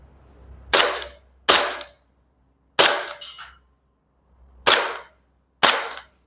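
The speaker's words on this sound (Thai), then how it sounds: "สิบห้าเมตรไม่แม่นเท่าไหร่นะครับขอยิงสักหน่อย" A powder-coated Umarex/KSC HK USP.45 Match BB pistol fires five sharp, loud shots at 15 metres, close by and unevenly spaced, with quiet pauses between them and no talking.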